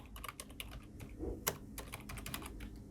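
Rapid, irregular keystrokes on a computer keyboard, close and fairly quiet, tapping steadily throughout with a couple of slightly louder key hits and no speech.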